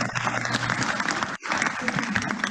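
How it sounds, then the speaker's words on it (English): Applause at a college graduate awards ceremony, a sustained crowd clapping throughout with a brief dip in the middle, moderately loud and even. "Please join me in a round of applause for this year's Pediatrics Award recipient, Dr. Chelsea Bittler."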